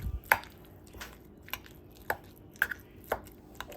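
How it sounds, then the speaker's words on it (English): Ground meat and farro worked together by hand, giving soft, wet squishing and squelching pats at an irregular pace, close and fairly quiet. "we're gonna mix the meat and the farro. Okay, I'm gonna mix this in."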